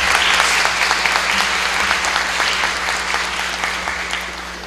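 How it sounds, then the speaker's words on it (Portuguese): An audience gives warm applause at a formal ceremony, a dense, steady clatter of many hands clapping together that gradually tapers slightly over a few seconds. "Humberto Corrêa e a professora Edna Guido, a quem eu peço uma calorosa salva de palmas."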